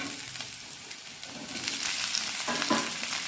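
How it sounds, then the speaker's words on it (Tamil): Two medium capsicums, finely chopped, sauté in a pan for capsicum gravy with a dense, close sizzle and scraping stirs that grow louder toward the end; no one speaks. "இதை போட்டு 2 நிமிஷம் நல்லா வதக்கணும்."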